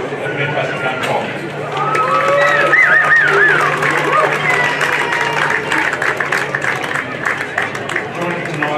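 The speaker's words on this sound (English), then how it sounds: "Give a round of applause," A crowd applauds the umpires at a men's hockey grand final, with sustained clapping that swells and then carries on steadily, while an announcer speaks over the applause.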